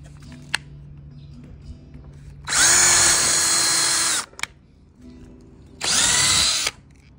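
A power drill bores holes through wooden letters in two loud bursts of about a second and a half each, separated by a quiet pause with faint handling taps around them.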